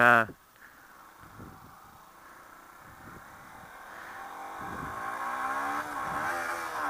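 Yamaha YZF 125 motorcycle engine while riding, a steady drone that gradually rises in pitch and loudness as the bike accelerates, with a short loud burst at the start and faint talk underneath.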